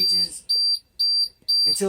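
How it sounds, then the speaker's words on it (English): Low air pressure alarm on a bus being restarted to build air, beeping in four loud, steady high-pitched pulses with short gaps, while a voice talks over and between the tones. "The alarm and indicator is still going to continue to go off"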